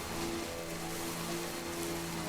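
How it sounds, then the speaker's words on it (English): Steady rain hissing evenly throughout in the video game Death Stranding, with a faint low tonal hum underneath; constant and moderately loud, no voices. "It's raining."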